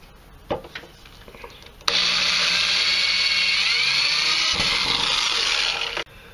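A power drill bores a hole through PVC pipe while building a homemade Nerf blaster, running as one loud, steady whine for about four seconds with faint handling clatter just before it.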